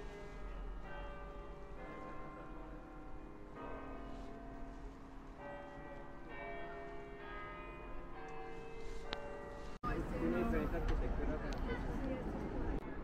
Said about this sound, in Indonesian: bisa dengar nggak suara bel gerejanya?